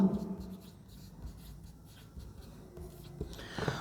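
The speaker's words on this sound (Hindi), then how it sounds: "इसके लिए मैं एक पूरी डिटेल लिख देता हूँ" Chalk or marker writing on a classroom board: a soft, continuous scratchy rubbing with short strokes, faint and steady, and no voice over it.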